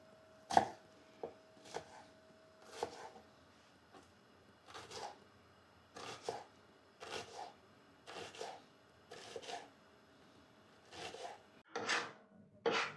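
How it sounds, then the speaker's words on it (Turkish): A knife finely chops an onion on a board in short irregular bursts of quick strokes, separated by pauses, close and fairly quiet. "Evet soğanı doğradık."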